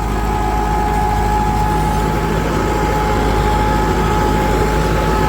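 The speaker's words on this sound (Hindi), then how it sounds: "ट्रैक्टर देख लो बिल्कुल एकदम ऐसा चल रहा है लोड फ्री" A loud, steady tractor engine pulling a rotavator drones continuously with a low rumble and a faint whine, no pauses or changes throughout.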